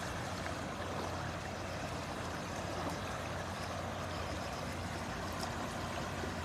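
A strong river current rushes past in a steady, dense roar of water, loud and unbroken throughout, with no voices over it.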